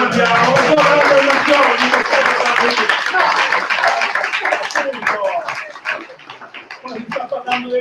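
An audience claps for teachers at a round-table event, a burst of applause that swells and then thins out, with voices mixed in and fading to scattered claps near the end.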